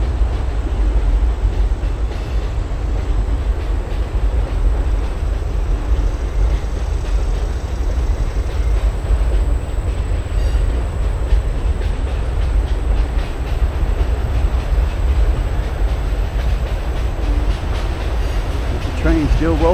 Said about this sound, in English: Train's still rolling on.